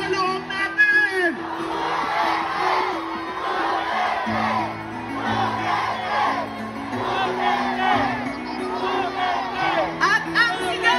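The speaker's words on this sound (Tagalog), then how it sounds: "At habang naglalakad tayo, isigaw na natin ang nasa loob natin!" A crowd at the Parada Dabawenyo street parade in Davao shouts and chants together in a loud, dense, sustained roar, with cheering voices and a steady low drone beneath.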